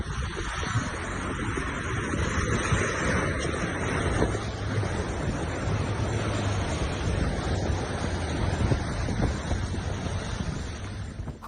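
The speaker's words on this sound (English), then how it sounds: "The small waves don't seem too menacing." Small ocean waves surge and wash onto a beach in a continuous rushing roar, heavily mixed with gusty wind buffeting the microphone.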